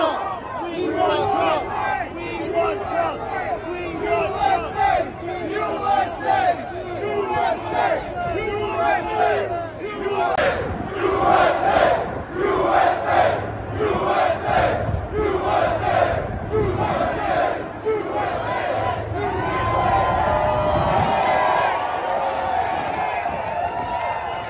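A New York construction crew of union workers cheers and shouts loudly in a dense, continuous crowd roar, with overlapping yells and excited voices throughout.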